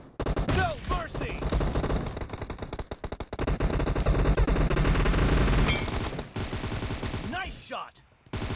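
Gunfire in the mobile video game BGMI rattles in loud, dense automatic bursts nearly throughout, with brief pauses and in-game voices calling out over the shooting.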